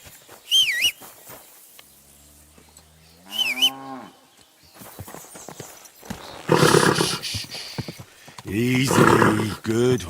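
Horse neighing and hoof clops from a medieval role-playing video game, Kingdom Come: Deliverance II; several loud whinnies stand out between quieter stretches, with a horse snort and character voices in the mix.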